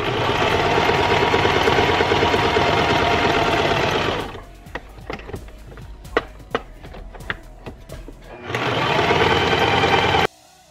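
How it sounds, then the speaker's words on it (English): A sewing machine stitches kitchen towel fabric in two loud, steady runs, one at the start and one near the end, with a pause between them filled by sparse clicks and taps. "just have your needle down, raise your presser foot, and pivot your fabric."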